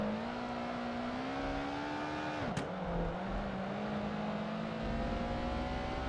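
Ascari racing car engine in Project Gotham Racing 2, a steady high-pitched drone that dips sharply as the car backs off into a corner, then climbs again under sustained throttle, loud and continuous.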